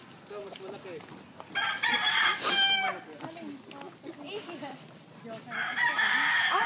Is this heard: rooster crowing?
yes